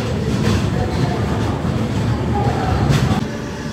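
Lingampalli Janmabhoomi Superfast Express standing opposite on the platform at Secunderabad railway station, a steady low rumble of train and station noise throughout, with faint voices in the background.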